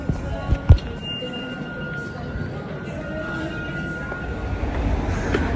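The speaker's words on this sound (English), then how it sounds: "Just leaving the train station now." Subway platform ambience inside a city train station: a steady rumbling underground train drone with a couple of sharp clanks early on, heard alone without speech.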